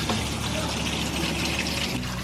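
Pot of water with beef brisket coming up to a boil: continuous broad watery rushing and bubbling, fairly loud and close, with no clear speech.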